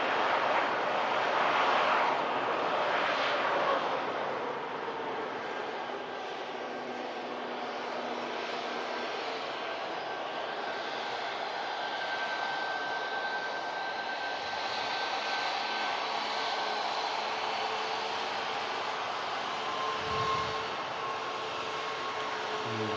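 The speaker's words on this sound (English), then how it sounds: "Ryanair making a bit of a racket to ensure he makes this exit in front of us here." A Ryanair jet exits the runway at Manchester Airport on a foggy day, its engines roaring loudly at first, then settling into a steady whining hum with rising and falling tonal lines, heard alone with no talk.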